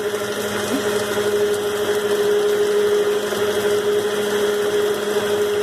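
An electric mixer runs on high, beating pineapple upside-down cake batter in a steady, loud, unbroken whir with a constant motor tone throughout and no talking.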